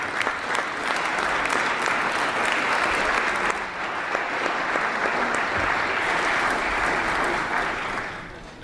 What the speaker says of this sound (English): if you'll give them a big round of applause